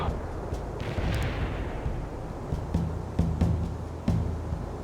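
Artillery fire in the game World in Conflict, during a Soviet assault mission: a dense, rumbling barrage of booms and distant blasts, with several sharper impacts standing out above a constant low roar.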